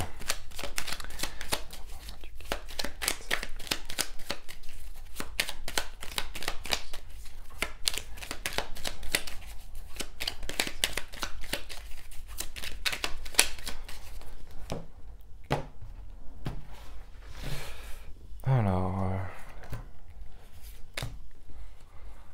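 Tarot cards shuffled by hand in a steady stream of dense riffling and sliding for most of the stretch, loud and close, thinning into a few separate flicks and taps near the end.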